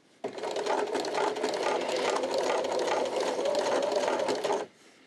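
A sewing machine runs steadily for about four seconds, stitching back and forth to reinforce a coin purse seam near the zipper teeth. The motor whirs close and loud with a fast mechanical rattle, then cuts off abruptly.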